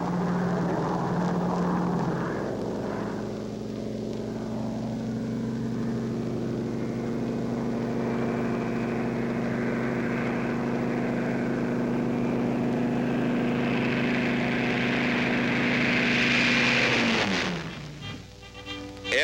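A B-17 propeller bomber drones steadily while towing two gliders in a dual tow, a sustained engine hum with a rising whine toward the end before it cuts off abruptly.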